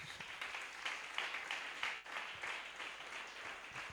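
A church congregation at an evangelical service week applauds together, steady dense clapping filling the room for several seconds, with a brief dip midway before the clapping swells again.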